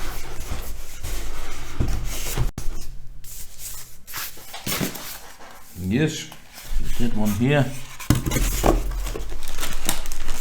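Crinkly packaging material rustles and scrapes while a Yamaha YAS-107 or YAS-105 soundbar is unboxed, with close, irregular handling noises and a person speaking briefly over them.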